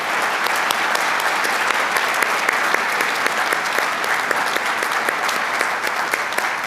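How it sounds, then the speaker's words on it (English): Commencement audience at a fall 2022 community college ceremony applauds faculty and staff, a steady, dense wash of clapping that holds evenly throughout with no voices over it. "Let's give these outstanding faculty and staff a round of applause."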